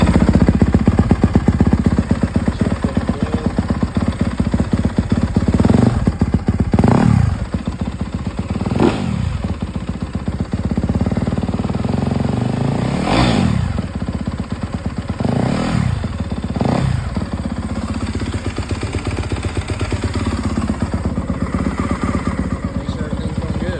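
A 2024 Yamaha YZ250F dirt bike engine, just back together after an oil change, running loud and close with a steady idle and several sharp throttle blips.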